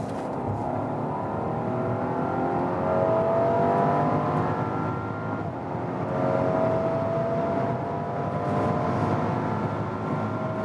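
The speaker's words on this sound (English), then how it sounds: "And one more acceleration for you when we are already at the speed" A Rolls-Royce Cullinan Black Badge SUV accelerates from 90 km/h, its cabin filled with a steady low engine drone and rising road and wind noise that swells gradually, heard from inside without talk.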